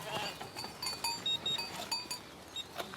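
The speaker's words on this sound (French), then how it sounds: "Mathieu Muller est le propriétaire des moutons dont s'occupe Dounia" A flock of sheep in Switzerland, with wolf predation nearby, bleats faintly and at a distance in overlapping calls, with occasional light bell clinks and a hint of voices.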